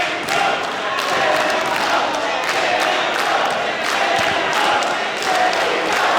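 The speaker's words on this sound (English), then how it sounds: "Crowd really getting behind Dani Mo" A large wrestling crowd cheers and roars steadily at the arena during a women's match featuring the hometown wrestler from Pittsburgh, loud and continuous, with faint thumps from the ring underneath.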